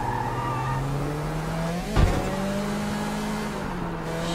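A car skids during a race in Sleeping Dogs, the engine droning as tires squeal with a sudden loud impact thud midway, then the engine tone carries on.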